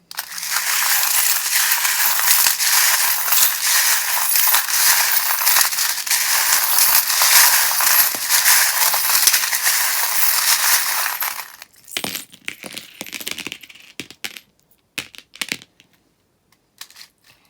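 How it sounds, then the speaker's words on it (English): Metal tarot charms and dice shuffled by hand, a loud continuous jangling clatter for about eleven seconds, then scattered separate clinks and rattles as pieces settle. "If you don't like the sound of the charms, or if you have the volume turned up really loud, you might just want to turn it down while I shuffle them."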